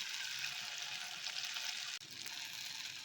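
Fish fries in a pan with a constant, bright sizzle and crackle, close and moderately loud, broken by one brief dip before the frying resumes.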